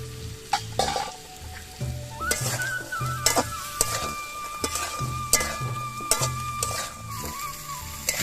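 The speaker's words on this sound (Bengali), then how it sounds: "আলু আর মটরশুঁটিগুলো একটু নাড়াচাড়া করে একটু ভাজা ভাজা হয়ে গেছে।" White potatoes and raw green peas sizzle and fry in a pan while being stirred, with steady crackling under repeated scraping and clinking strokes of a utensil and no voices.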